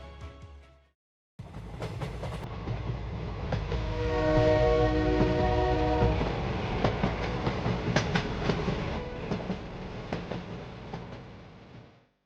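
A train passes through a railway station, a loud sustained rolling rumble with rhythmic clatter of wagons over the rails that builds, holds steady and fades out near the end, with no talk.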